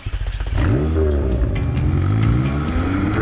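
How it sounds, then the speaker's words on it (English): A McLaren 720S Spider supercar's engine, a few quick blips then a loud sustained rev with rising and falling pitch, close and alone. "the 720S Spider, a normal supercar with recent hypercar performance"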